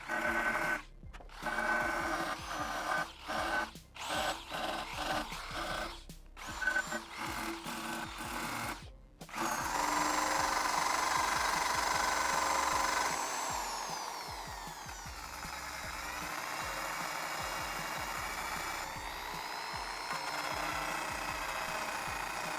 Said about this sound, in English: I'm going to use a buffing wheel along with some buffing compound to try and match the finish